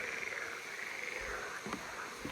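Frogs croaking in a steady chorus near a fishing spot at evening, a continuous rasping texture with a few sharper calls standing out near the end, no voices over it.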